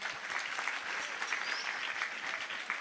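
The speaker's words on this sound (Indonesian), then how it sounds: "Tepuk tangan untuk kita semua" Faint, distant applause from a school gathering for the Prophet's birthday and Santri Day, an even patter of many hands clapping with no voices.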